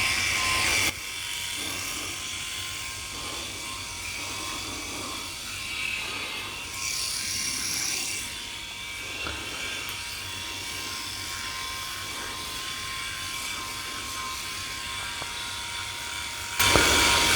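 A Philips i9000 Prestige electric rotary shaver buzzes steadily up close while it shaves a head, its whine shifting a little in pitch as it moves over the scalp, with a louder bump where it starts and stops.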